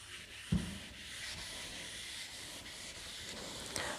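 Eraser rubbing across a board to wipe off written maths work, a steady soft scrubbing texture running throughout, with a brief knock near the start and another light tap near the end, no talking.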